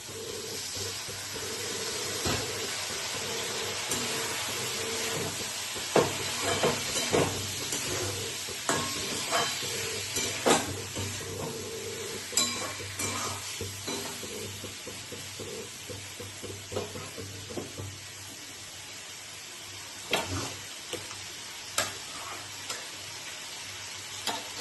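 Boiled sweet potato and papaya go into a hot pan and sizzle steadily, with stirring clicks and scrapes that come and go over a continuous fry.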